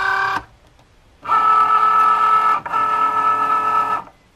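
A Cricut Joy cutting machine whirs loudly as it feeds in a card mat, a motor drone starting after a brief pause and running in two long bursts split by a short dip.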